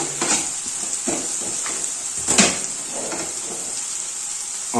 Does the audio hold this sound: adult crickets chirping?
no